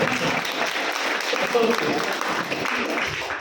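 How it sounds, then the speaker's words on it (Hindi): Crowd at a closing speech event claps enthusiastically, a continuous dense roar of applause with likely cheering mixed in, steady and loud for the whole stretch. "देखो कितना उछल के ताली बजाए"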